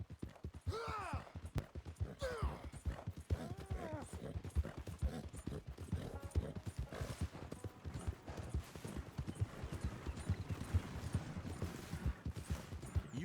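Horse hooves clip-clop steadily in Red Dead Redemption 2, a dense rhythmic clatter of hoofbeats with a brief whinny, continuing throughout amid game sounds.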